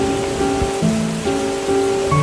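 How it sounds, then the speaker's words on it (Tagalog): Steady rain falls outdoors as a constant dense hiss, close and fairly loud, with low tonal hums running underneath. "nilalasap yung nature, yung ulan at saka yung hangin."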